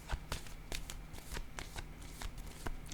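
Tarot cards shuffled and drawn up close, a rapid series of crisp riffling flicks and snaps at an uneven rhythm, quiet and isolated.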